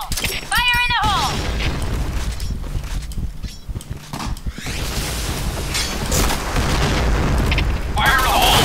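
A grenade explodes in the Point Blank shooter game with a heavy boom and a lingering rumble and debris, amid busy game effects, whistling sweeps and players talking.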